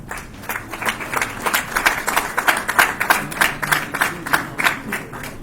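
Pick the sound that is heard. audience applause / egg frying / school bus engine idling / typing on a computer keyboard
audience applause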